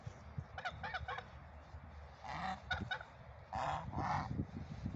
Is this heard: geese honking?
yes